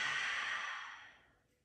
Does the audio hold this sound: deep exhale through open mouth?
yes